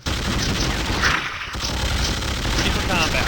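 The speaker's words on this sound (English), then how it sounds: "The sound effects are perfect for the game, from the humble regulator's assault rifle" In the strategy game Priority: Survive, a regulator's assault rifle fires in dense continuous bursts amid booming battle noise, loud and unbroken across the whole stretch.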